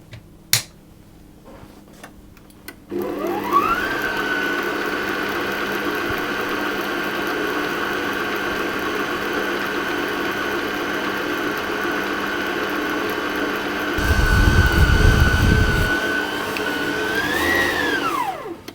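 After a few clicks, a stand mixer motor spins up and hums steadily as it kneads garlic, onion and cheese bloomer bread dough, first at low speed and then faster. A brief thumping passage comes midway, and the motor winds down at the end.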